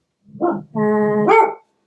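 A dog at home gives a single close, loud bark followed by a drawn-out whining yowl, clear and alone without talk.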